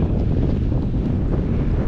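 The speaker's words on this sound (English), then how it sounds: "windy here" Wind buffeting a microphone on an outdoor e-bike ride, a loud, steady low rumble that fills the short stretch without any voices.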